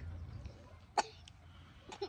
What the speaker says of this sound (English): Uh oh, she's coughing.